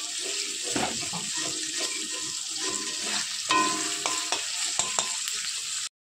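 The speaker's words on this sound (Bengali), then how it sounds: "দেখো লাল লাল করে পেঁয়াজ ভাজা হয়ে গেছে" Onions frying in a pan over high heat give a steady, close sizzle, with stirring scrapes and a few clinks running underneath until it cuts off.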